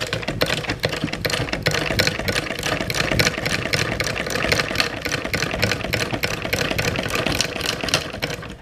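A sewing machine runs continuously up close with a fast, steady mechanical clatter and rhythmic ticking, and it does not seem to be catching the bobbin thread.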